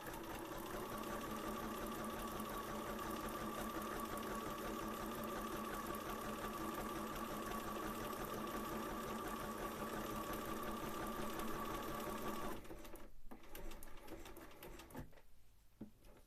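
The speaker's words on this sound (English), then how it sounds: "I'm just having to zigzag the panels first." A sewing machine zigzag-stitching skirt panels runs in a steady, fast whirring rhythm for about twelve seconds, then stops abruptly, leaving a few faint handling noises.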